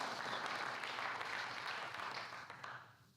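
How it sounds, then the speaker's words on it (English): Audience applause for a finalist at a high school sports player of the year awards event, steady clapping at moderate distance that fades out toward the end. "you can give him extra long applause"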